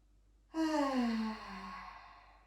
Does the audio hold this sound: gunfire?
no